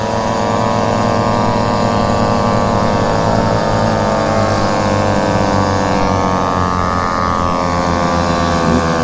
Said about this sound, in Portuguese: E tá berrando o escapamento